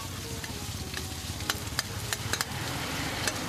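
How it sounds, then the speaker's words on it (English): Pad thai frying on a street vendor's hot plate with fried egg and rice stick noodles, a constant close sizzle punctuated by sharp scraping clicks of a spatula. "She uses a nice hot plate, starts out by putting fried egg down."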